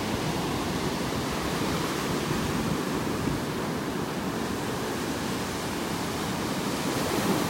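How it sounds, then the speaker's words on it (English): Ocean surf breaking on a beach in North Naples, Florida, a continuous loud broadband roar of waves with no distinct breaks and no talking. "Those are some pretty nice waves breaking out there."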